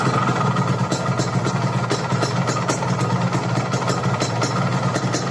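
A Yamaha RX King two-stroke motorcycle engine runs at a steady, loud idle close to the microphone, giving a continuous buzzing rattle with rapid irregular popping throughout and no talk.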